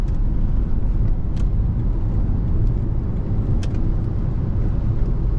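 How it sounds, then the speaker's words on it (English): Steady broadband rushing and low road rumble inside a moving 2007 Lexus GS 350 with 275,000 miles, with wind buffeting continuous throughout and a few faint high clicks. "Definitely some wind noise."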